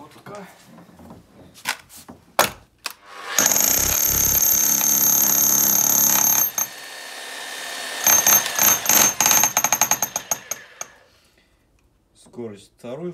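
A Bosch 3230 rotary hammer drill runs in hammer-only mode in two bursts: a steady, loud mechanical roar lasting about three seconds, then a rapid stuttering series of impacts. Faint voice sounds are heard near the start and end.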